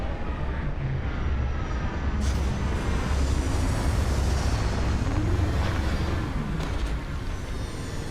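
A spaceship landing in the video game Starfield produces a loud, continuous roaring rumble of engines with a broad thrusting hiss that holds steady throughout, with no talking.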